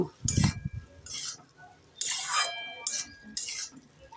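Bengali-style cooking of betho (bathua) greens in a pan, with short bursts of metal utensil scraping and clinking as the leaves are stirred, several separate strokes at close range over a faint background.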